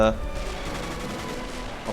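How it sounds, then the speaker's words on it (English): Artillery and gunfire boom in the Army Men of War video game during a toy-soldier castle siege, a loud, dense barrage of blasts rolling on without a break. "They're exchanging fire with me. With their artillery as well"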